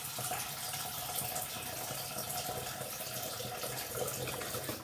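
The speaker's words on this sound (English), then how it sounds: "You always want to fill up your sink with a little bit of water" Tap water runs steadily into a bathroom sink, filling the basin with a little water before denture adhesive is applied; an even, close rushing splash continues throughout with no talking.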